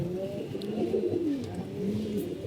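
Pigeons kept in a loft coo in low, rolling calls, several overlapping coos repeating steadily through the moment, fairly close with a faint background hum.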